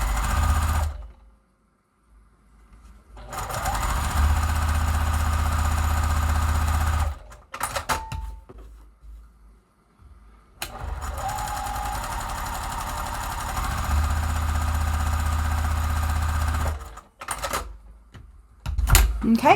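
Sewing machine at stitch length 2 piecing a quilt block for a basket pattern, running in two long steady bursts of rapid mechanical whirring, separated by short pauses with brief handling noises and a moment of quiet.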